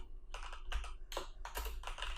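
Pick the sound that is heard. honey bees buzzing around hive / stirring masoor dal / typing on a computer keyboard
typing on a computer keyboard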